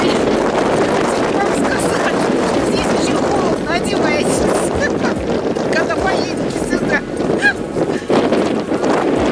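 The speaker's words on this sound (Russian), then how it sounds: "А вот послушайте, какой ветер реальный." Loud, roaring wind on Mount Etna, a volcano in Sicily, buffets the microphone continuously, with gusty rumble and brief honking or voice-like tones poking through the blustery noise.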